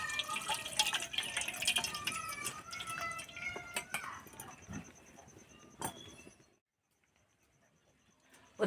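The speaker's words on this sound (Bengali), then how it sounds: "এবার জল দিয়ে দেব," Water is poured over freshly strained chhana cheese in a sieve, giving a close, continuous splashing trickle with scattered drips that stops abruptly, leaving near silence.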